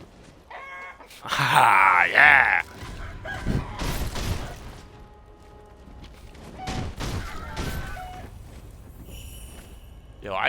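Chickens cluck and a rooster crows during a chicken battle in a video game, with busy game effects and excited talking over them.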